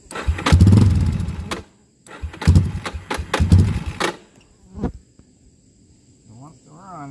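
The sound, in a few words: Yamaha Warrior ATV engine trying to start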